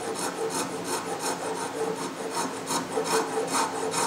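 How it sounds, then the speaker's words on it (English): End grain of a steel-hooped hardwood mallet with bloodwood wedges is sanded by hand in fast, even back-and-forth rasping strokes, close and steady, with no voices. "Wherever you've got end grain and cross grain coming together, it's very difficult to sand it evenly"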